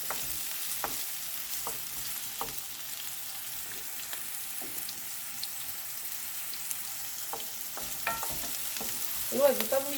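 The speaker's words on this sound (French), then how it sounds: "je viens mettre les oignons, grossièrement hachés" Coarsely chopped onions frying in a pan with aubergine, a faint steady sizzle under scattered stirring clicks and scrapes, ending with a brief louder utensil clatter.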